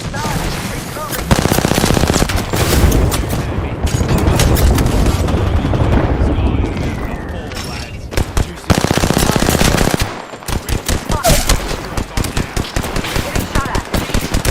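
Dense gunfire from a Valorant match between Vision Strikers and Cloud9 rattles almost nonstop, with loud rapid bursts, brief gaps and sharper single shots toward the end.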